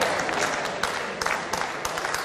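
A crowd at a pool match between England B and Indonesia applauds steadily, with sharp individual claps standing out over a sustained wash of clapping.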